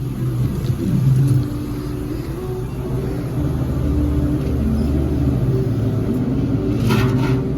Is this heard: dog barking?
no